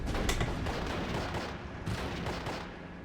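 Rifle fire in a WWII Normandy battle game crackles in a rapid, irregular volley of sharp reports, several overlapping shots at moderate distance with a fainter rumble beneath.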